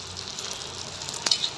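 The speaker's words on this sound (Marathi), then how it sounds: "थोड्याशा तुपात आपण डिंक पण आता हे भाजून घेणार आहोत" Edible gum (dink) roasting in a little ghee in a pan, making a soft, steady sizzle with a brief sharper crackle near the end, close and fairly quiet.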